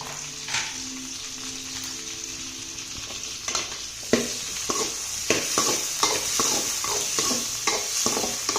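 Onion and tomato sauté in a pan for a black chickpea curry, with a steady sizzle broken by repeated sharp scraping strokes of a spoon stirring, close and fairly loud, with no talking.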